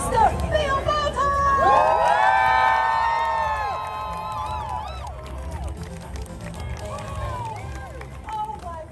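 A crowd at the Super Nintendo World grand opening ceremony cheers loudly, with high children's shrieks and whoops rising together, then settling into scattered shouts and chatter.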